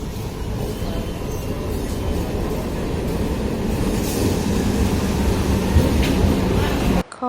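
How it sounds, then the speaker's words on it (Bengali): A train pulls into a railway station, a steady loud rumble of wheels and carriages with faint squeals, close and continuous until an abrupt cut near the end. "আর ট্রেন আসছে এখন।"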